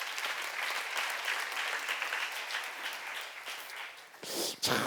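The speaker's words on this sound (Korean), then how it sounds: "있는 사람만 박수 한번 쳐봐" An audience at a church seminar breaks into applause, a broad, continuous wash of many hands clapping at moderate distance that fades out near the end.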